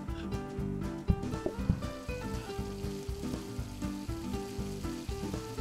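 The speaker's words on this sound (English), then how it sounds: "So I start cooking steaks." Steaks sizzling on the grill in the cooking game PlateUp!, a steady frying hiss layered under busy game music with occasional sharp clicks, moderately loud and continuous.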